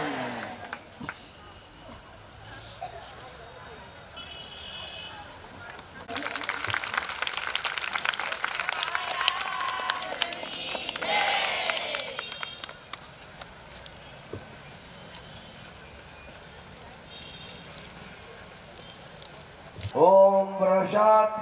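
A crowd at a Swaminarayan religious festival gathering bursts into a dense, sustained round of clapping for several seconds, then fades back into quieter murmuring and voices.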